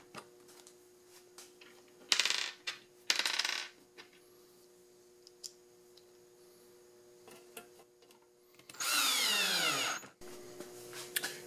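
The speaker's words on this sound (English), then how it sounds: "Go ahead and screw it on." Screws driven into a DIY hat rack with a power drill: two short whirring bursts, then a longer one that winds down in pitch, separated by quiet handling clicks and taps, close by.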